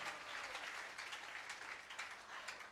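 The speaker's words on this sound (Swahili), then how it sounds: "Pigia Yesu makofi." A church congregation claps for Jesus, a dense, steady wash of many hands at moderate loudness, continuous for the whole moment with no voices standing out.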